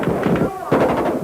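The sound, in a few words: gunfire, Kalashnikov rifles fired in Moscow street clash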